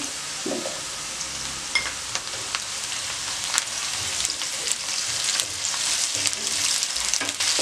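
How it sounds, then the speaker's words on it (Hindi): Ginger frying with lightly cooked onions in a pan for chickpea pulao: a close, steady sizzle and crackle, growing a little denser toward the end, with occasional stirring scrapes and no speech. "हल्की सी अदरक फ्राई कर ली"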